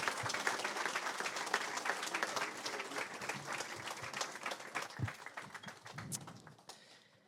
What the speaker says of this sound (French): Est-ce qu'on peut faire une main d'acclamation à notre Dieu